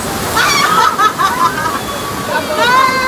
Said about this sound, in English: Oh, here comes the water cannons.